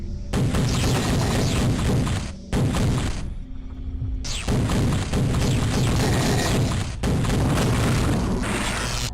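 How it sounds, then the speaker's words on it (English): Enemy gunfire in the 1996 PC first-person shooter Eradicator comes as dense, loud bursts of booming shots and impacts, broken by short gaps of near quiet, with no voices. "Oh, there's somebody shooting at me."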